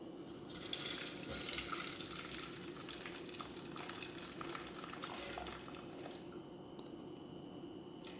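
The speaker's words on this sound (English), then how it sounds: "Rasam has boiled for 15 minutes. Now I will drain it." Boiled tomato rasam being drained, a steady wet splashing and trickling pour with faint sizzle, close and continuous without speech.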